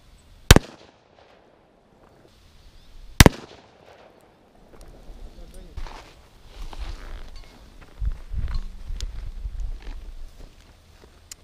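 Two sharp, loud gunshots ring out at homemade body armor made of seatbelts and a Lexan polycarbonate plate, spaced a few seconds apart outdoors, followed by footsteps and rustling movement.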